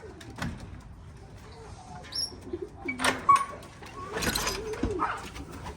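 Racing pigeons in a one-loft race loft coo in short, soft, intermittent calls alongside wing flutters and small knocks, with a person talking nearby.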